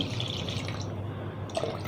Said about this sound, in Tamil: கொஞ்சம் தயிராக இருக்கிறனால கொஞ்சம் தண்ணி ஊற்றிக்கிறோங்க